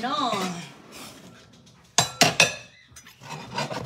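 Metal pots and lids clanking and clinking close up during a rummage for a pan lid, sharp bright hits in a quick cluster with scraping between, while a person talks.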